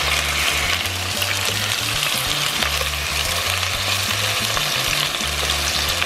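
Rosemary chicken fries in a pan with a dense, continuous sizzle and crackle, while a low rhythmic rumble pulses underneath, loud and close.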